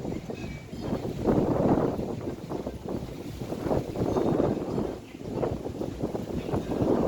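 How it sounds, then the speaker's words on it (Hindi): Cool wind blowing across the hilltop at Shankaracharya Temple above Srinagar on a cloudy day, a steady gusting rush buffeting the microphone, swelling and easing over several seconds with no talk. "ठंडी ठंडी हवा चल रही है"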